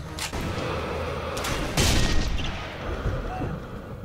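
Rifle shots from the Sniper Elite video game crack out several times over a dense, steady wash of game noise, with one heavier boom near the middle.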